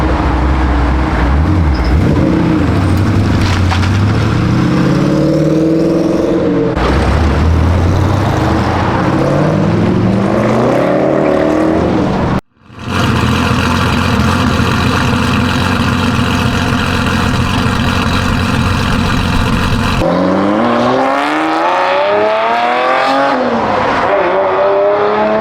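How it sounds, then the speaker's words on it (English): A Ferrari Testarossa engine at a cars and coffee meet, revving in several rising and falling sweeps, with a brief cutoff midway followed by a steady droning hold and then more revs, loud and close. "that Testarossa sounded pretty good"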